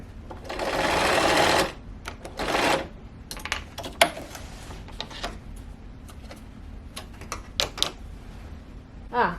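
A sewing machine stitching a sofa slipcover seam runs in a short loud burst and then a briefer one, followed by scattered clicks and rustles of fabric and pins being handled.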